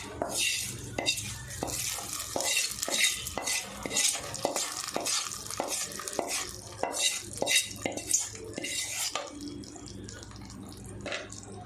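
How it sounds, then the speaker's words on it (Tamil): A Tamil-style water chutney for idli gets a tempering of curry leaves stirred through it, giving a steady run of scraping, clinking strokes with a faint sizzle underneath, close and moderately loud. "தாலிப்பு சேர்த்துட்டு ஒரு டைம் நல்லா கலந்து விட்டுட்டு"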